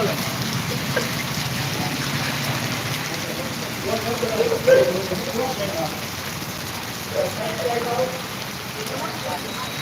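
Heavy monsoon downpour in Jamkandorna, Gujarat: a dense, steady hiss of rain pounding surfaces throughout, with faint voices and brief louder splashes partway through.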